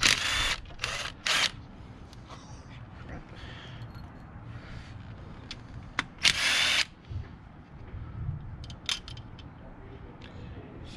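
Power drill driving bolts on a 2011 Suzuki V-Strom 650 motorcycle during an oil leak repair, several short bursts of whirring, close, separated by quieter stretches of faint workshop noise and some talk.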